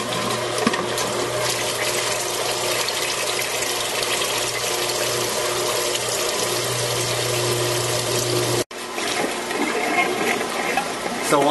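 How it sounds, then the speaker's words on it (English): Fryer filter pump returning filtered oil from the holding tank back into a commercial fryer, a loud steady hum with rushing liquid flow, briefly cutting out before resuming, with a voice talking over it. "return all the filtered oil from the tank back to the fryer"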